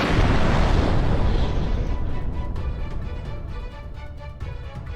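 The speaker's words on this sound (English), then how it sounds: "The same explosion is shown from another angle." An airstrike explosion on a Russian position in a building in Shevchenko, Pokrovsk area, rumbles as a heavy, roaring blast that slowly decays over several seconds with crackling debris, no voices.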